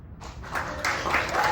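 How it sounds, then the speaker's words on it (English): Broadband clapping from a crowd swells and holds steady, a continuous wash of applause filling the room during a game night aboard the Disney Fantasy cruise ship. "Give him a round of applause."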